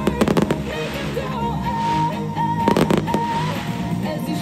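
Fireworks over the Sixth Street Viaduct bridge grand opening in Los Angeles: repeated crackling bursts and booms, some clustered in quick volleys, heard at moderate distance under a steady backdrop of pop music and crowd noise.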